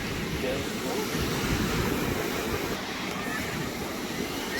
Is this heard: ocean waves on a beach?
yes